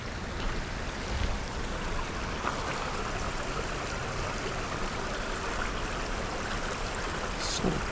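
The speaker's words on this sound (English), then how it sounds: "Cool little brook here." A small brook flows through a forest, giving a steady close-up babble and trickle of water that runs evenly throughout, fairly loud and alone with no talking.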